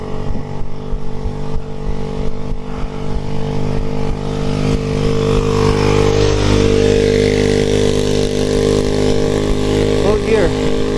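Motorcycle engine laboring steadily uphill on a steep climb, a constant low drone that grows slightly heavier partway through, with a person talking over it.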